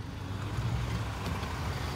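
A 345-engine car, a Challenger R/T, rumbles low and steady in rush-hour traffic, a continuous near drone of engine and road noise with no clear revs.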